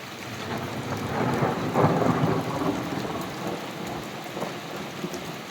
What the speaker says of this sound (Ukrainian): Гримить потихеньку.